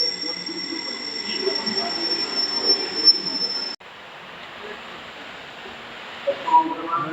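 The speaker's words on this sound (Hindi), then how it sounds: "train number 1338 Dhanbad special is taking me from platform number 3" Dhanbad special passenger train moving along the rails, a steady loud rumble with a thin, sustained high wheel squeal that cuts off abruptly midway, followed by quieter rolling noise.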